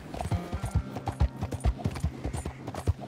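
A horse's hooves clip-clop at a steady, brisk gait in Red Dead Redemption 2, loud and close, with regular rhythmic thuds throughout.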